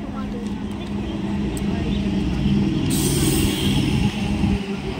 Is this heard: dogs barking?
no